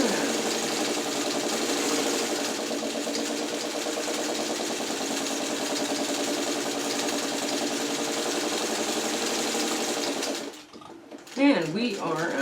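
A machine sews appliqué on a Churn Dash quilt block, steering around a curve with a steady, continuous whir that runs loud for about ten seconds, then stops, followed by a few brief handling sounds.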